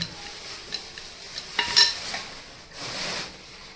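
Strips of maida dough for Gujarati cholafali frying in hot oil in a pan, giving a steady close sizzle that swells near the end, with a few light metallic clinks of a utensil.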